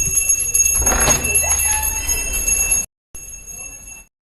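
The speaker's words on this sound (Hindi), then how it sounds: "घंटी की आवाज आ रही है, वो कॉटन कैंडी वाला आता है ना।" A cotton candy vendor's bell rings repeatedly with a bright, steady metallic tone over outdoor street background noise, briefly cutting out near the end.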